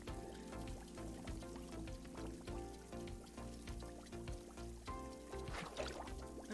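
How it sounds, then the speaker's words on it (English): In the video game Wanderstop, cups are washed in bubbling water, with soft gurgling, pouring and bubbling sounds playing over a continuous layer of game music. "Oh, that's how you wash the cups?"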